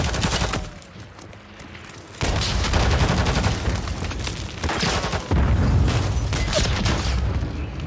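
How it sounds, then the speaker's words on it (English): In the Call of Duty video game a shotgun fires amid loud, continuous gunfire and booms from the game. The din stays dense and steady throughout, and no voice talks over it. "He just shot me right through it with a shotgun"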